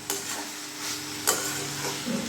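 Mutton liver curry with fried potatoes is stirred and sautéed in a pan, with a soft continuous sizzle and a few sharp scraping strokes of the spoon.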